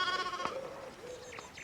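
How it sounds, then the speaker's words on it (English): Sheep bleat in the medieval narrative video game Pentiment, a wavering, nasal call stretching across most of the moment over a soft background hum, with a fainter second bleat near the end. "One of the fence rails fell and the sheep started hopping it."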